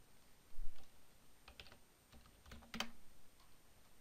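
Keyboard keys tapped during an account log-in, sounding as a few scattered clicks in short bursts, with one sharper clack near the end, close and fairly quiet with no voices.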